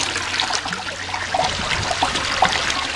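A 1999 Cisa toilet flushes table tennis balls and washcloths down the trapway, a steady rushing and trickling swirl of water heard close up with no talking.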